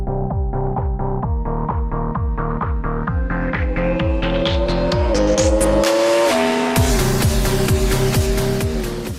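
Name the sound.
Yamaha R1 motorcycle riding on a test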